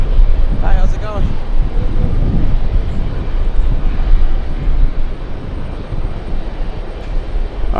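A JetBlue airliner roars loudly past at an airport, its broad engine rumble steady throughout, with people talking over it in the foreground.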